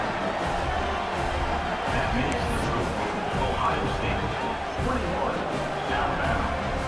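Steady stadium crowd in the college football game College Football 26, a dense roaring babble of many voices with faint cheers, constant and enveloping, with a commentator's voice over it.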